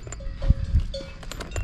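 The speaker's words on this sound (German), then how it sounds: "Und ich befinde mich mitten bei den Kühen." Cows stand around on a hillside pasture near the Sulzberg castle ruin, with soft low shuffling and grazing sounds, faint thuds and occasional distant bell-like tones in the open air.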